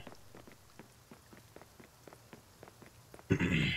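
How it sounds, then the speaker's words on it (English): Rain falling in the Watch Dogs 2 video game, a soft steady patter of drops with light regular taps, ending in a sudden louder burst of game sound. "Ooh, it's raining."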